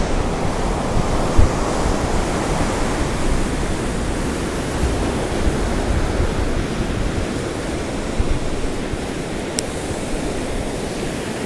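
Ocean surf on Puri beach in India roars as a continuous broadband wash of breaking waves, loud and close, with no talking.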